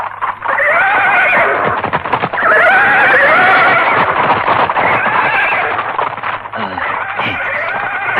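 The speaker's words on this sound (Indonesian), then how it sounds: "Kenapa kuda-kuda jadi ribut?" Several horses neigh and whinny restlessly in loud, repeated shrill calls, with faint hoof clip-clop beneath them.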